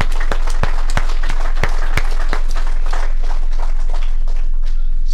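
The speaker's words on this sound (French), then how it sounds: "On l'applaudit." Scattered, distinct hand claps at a funeral ceremony, sharp individual claps spaced irregularly and thinning toward the end over a low steady hum, with no talk.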